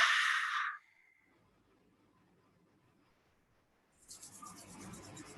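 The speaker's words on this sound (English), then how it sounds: "Rub your hands." Hands rubbing together with a dry, broadband swishing, fairly close and loud for under a second, then near silence, and a second burst of rubbing returns after about four seconds.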